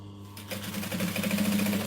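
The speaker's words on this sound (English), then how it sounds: "then we're going to top stitch along there" A sewing machine starts up and runs at a steady hum, top stitching along the edge of a business bag, close and continuous with no talking.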